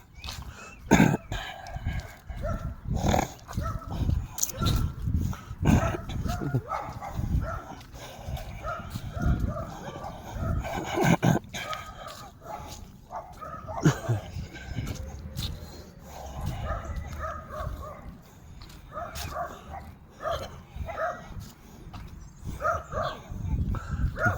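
Dogs barking outdoors along a walking route, loud repeated barks scattered throughout with other animal calls in the background.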